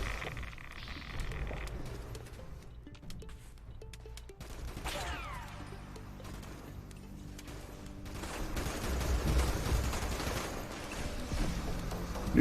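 Bursts of gunfire from the Fallout 76 video game crackle in rapid volleys, faint and distant at first and building louder toward the end.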